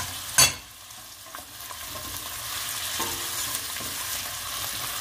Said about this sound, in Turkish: Patatesimizi de 1 dakika kavuruyoruz